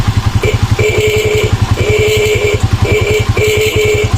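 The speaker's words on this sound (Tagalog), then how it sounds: "At ito po yung tunog ng ating busina." A motorcycle engine idles with a steady chugging pulse while its horn, with no capacitor connected, sounds in several short honks and longer blasts, loud and close.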